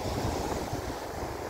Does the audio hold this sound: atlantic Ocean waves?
yes